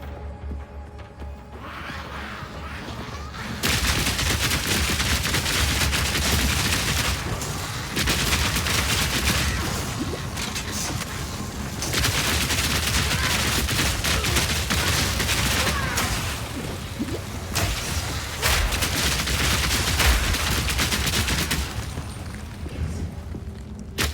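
A rapid fire skill attack in Path of Exile 2, pouring out a dense, continuous barrage of crackling shots and impacts in long loud bursts with brief lulls between, steady and close throughout.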